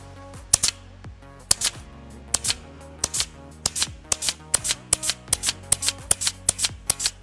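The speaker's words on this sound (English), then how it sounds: "Gotta get that grease gun in there." Grease gun pumping grease into a fitting on a 1997 Toyota HiAce Super Custom during service: a steady series of sharp clicks and squelching pumps, roughly two per second, close and fairly loud with no talk.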